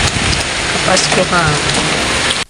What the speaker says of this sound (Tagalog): Maulan ang desperas ng Pasko.